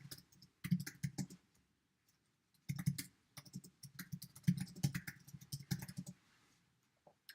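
Close computer keyboard typing in uneven bursts, clusters of quick clacks separated by short pauses, with a lighter click now and then and no speech.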